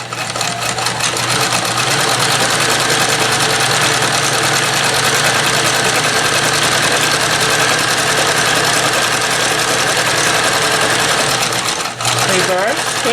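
A vintage Dressmaker sewing machine zigzag stitching on denim, a loud, steady mechanical whir and rapid needle clatter running nonstop, with a short hitch near the end as it slows and restarts.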